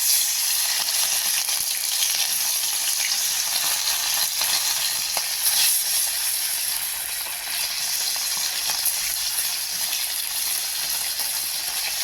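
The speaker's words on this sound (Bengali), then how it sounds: "বাটা মাছটা আমি নুন হলুদ মাখিয়ে নিয়েছি, এবার আমি তেলের মধ্যে দিয়ে দেবো।" Bata fish rubbed with salt and turmeric frying in hot oil, a steady, dense sizzle that holds evenly throughout with faint crackles and no voices.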